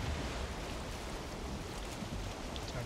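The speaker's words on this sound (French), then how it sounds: "Tiens, le vent." Steady rushing wind and broad sea noise surround a longship sailing in Valheim, a dense continuous roar without pauses or voices.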